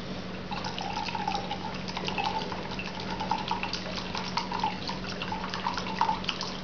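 Imported Eastern European vodka poured into cognac, a steady liquid trickle with small splashes and drips, close and fairly quiet over a faint background hum.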